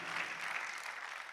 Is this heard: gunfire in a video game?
no